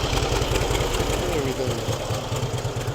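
An antique Harley-Davidson motorcycle engine runs at a fast, unadjusted idle, its close, uneven chugging and knocking beat continuing throughout while voices talk over it.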